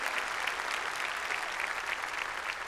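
A church congregation applauds together during a Sunday service, a steady continuous wash of clapping at moderate level for the whole stretch, with no voices standing out above it.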